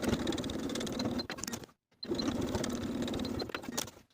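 A sewing machine stitches in the ditch through all layers of a flutter-sleeve top to hold the facing, running in two steady bursts split by a short pause, close and fairly quiet with no voices.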